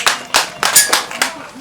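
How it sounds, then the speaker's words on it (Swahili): Scattered claps from an audience at a village gathering of pastoralist women in Meserani Juu, uneven bursts of applause rising and fading over a short stretch. "Makofi tafadhali."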